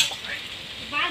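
Raw banana and potato curry sizzles in a frying pan, a brief, close hiss of frying with a faint stir.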